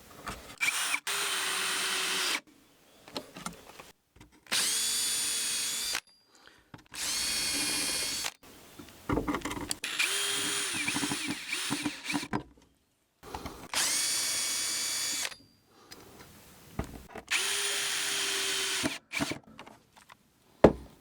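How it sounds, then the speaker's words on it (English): A power drill drives screws into wooden floorboards during a floor installation, in about seven loud whirring bursts of one to two seconds each. Brief quiet pauses and the clatter of handling the tool separate them. "I will drill holes here and just screw like this here."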